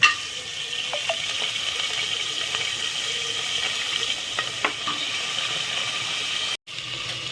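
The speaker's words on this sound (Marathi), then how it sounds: "हे जे पाय बकऱ्याचे पाय आहेत ते स्वच्छ धुतलेले आहे ते मी आता या कुकरमध्ये टाकणार आहे कडक व्हायला तेलात" Washed goat trotters frying in hot oil inside a pressure cooker, a steady close sizzle with faint crackles and occasional small pops throughout, ending with a brief cutoff.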